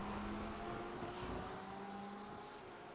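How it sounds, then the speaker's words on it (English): McLaren race car in a SuperCars NZ MRP HPR Series round at Road America, engine droning steadily and loud with a sustained tonal note, heard from an onboard view of a nearby car. "the sound that McLaren is making is epic"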